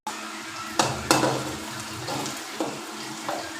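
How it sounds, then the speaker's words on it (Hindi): Onions frying in oil until light brown, a steady hissing sizzle close by with a few louder bursts as they are stirred, no talking. "ऑयल को प्याज को हम लाइट ब्राउन कर लेंगे"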